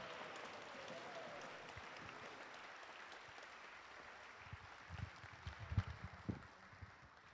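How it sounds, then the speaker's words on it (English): An indoor audience claps for children in monster costumes as they march back, a faint, steady patter of applause that swells into louder, closer claps toward the end. "Can we get one more round of applause for our monsters as they march their way back?"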